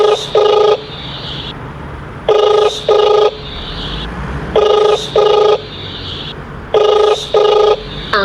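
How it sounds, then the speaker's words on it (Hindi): A telephone ringback tone repeating in double pulses with pauses between, loud and clear, over faint background noise. "तुरंत अपने फोन से सेठ जी को कॉल लगा देता है।"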